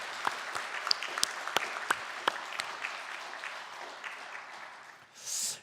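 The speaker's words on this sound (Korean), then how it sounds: "한번 우리 축하의 박수를, 감사의 박수를 보내도 좋을 것 같습니다." Church congregation applauding during a Sunday service, a moderate room-filling patter with a few sharp individual claps standing out, fading toward the end before a brief burst of noise at the close.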